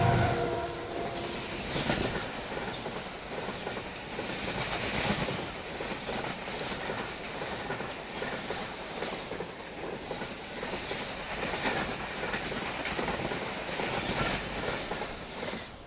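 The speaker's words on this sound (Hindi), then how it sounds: "वो ट्रेन आ गई।" A passenger train rolls past on the rail line near Karachi, a continuous loud rush of wheels with rhythmic clickety-clack and metallic squeals, steady for the whole stretch with no voices.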